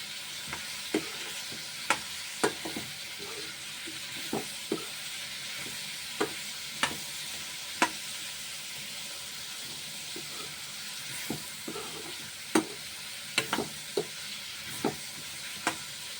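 Cauliflower and potato sizzle in a pan with fish while a utensil stirs them, a constant hissing fry broken by sharp scraping clacks at irregular intervals, close and without talk.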